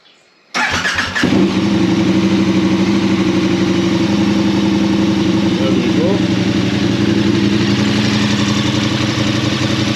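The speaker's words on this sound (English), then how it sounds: "we just start the bike up, just for a second or two." A KTM 1290 Super Adventure motorcycle engine cranks and fires after a brief silence, then settles into a steady, loud idle close by that runs for the rest of the clip.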